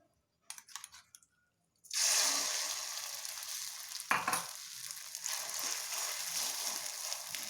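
Omelette mixture with potato poured into hot oil in a pan, a sudden loud sizzle that bursts in after a few soft handling clicks and keeps frying steadily up close, with a brief clatter partway through and no talking.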